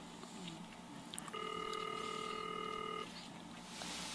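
Telephone dialing tones for placing a call, a steady electronic tone holding for nearly two seconds over a faint room hum, with a few soft clicks before and after.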